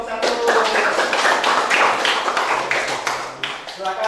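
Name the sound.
applause for group 1 in a classroom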